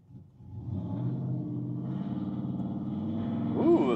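A loud, deep engine rumble from a nearby car with a stolen catalytic converter drones steadily beside a quiet electric vehicle at a traffic light, swelling slightly toward the end.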